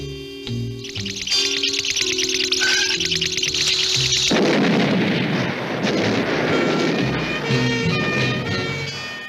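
Explosions from a 1960s heist scene boom out loud and close, a heavy deep blast rolling into a long rumbling, crackling decay that fills the clip, with no voices.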